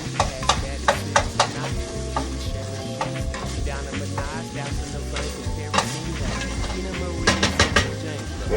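Spaghetti sauce cooking in a pan, a loud steady sizzle and bubbling with repeated clinks and scrapes of stirring throughout, a low background hum beneath.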